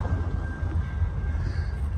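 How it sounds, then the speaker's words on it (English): A small local freight train of about three boxcars rolls past near a railroad diamond on the Indiana & Ohio Railway, a steady low rumble with a faint high wheel squeal running throughout. "Got a little local coming through. This is gonna be a small one. It's only got maybe 3 boxcars, if that."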